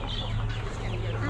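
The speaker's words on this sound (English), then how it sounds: "Some more black copper marans." Black Copper Marans chickens cluck close by at an Amish animal auction, a brief burst of soft, continuous clucking over background murmur.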